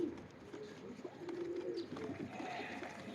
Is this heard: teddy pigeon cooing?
yes